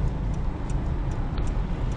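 A car's turn signal indicator ticks in a steady, evenly spaced rhythm during a driving lesson, the faint clicks riding over a constant low hum of road and engine noise inside the cabin.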